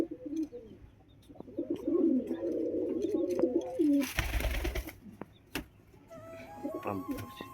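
Pigeons coo in a run of soft, rolling low calls over about four seconds, followed by a sharp broadband burst and a few clicks, with quieter background sounds afterward.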